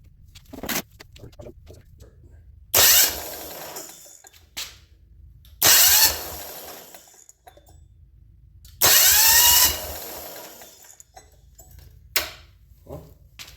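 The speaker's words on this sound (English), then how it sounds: "Then I'll hold the decompression release and I'll start it to see if it starts." Electric starter cranking a diesel engine on a drift trike with the decompression release held, three loud bursts of spinning of about a second each separated by pauses, with no firing.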